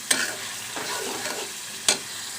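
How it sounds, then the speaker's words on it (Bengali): Spice paste for prawn bhuna sizzling as it is stirred in a pan, with a soft steady fry and two sharp scraping clinks of the spoon against the pan, near and alone. "মশলাটা ভালোভাবে কষিয়ে নিচ্ছি"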